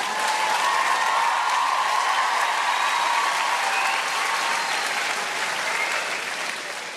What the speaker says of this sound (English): All those women clapping, they meant yours.